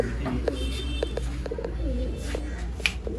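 A pigeon coos nearby in low, soft repeated calls over a steady background hum.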